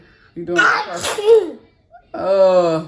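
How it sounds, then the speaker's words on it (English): One person sneezes sharply up close, with a voice speaking briefly right after. "You're not sneezing anymore."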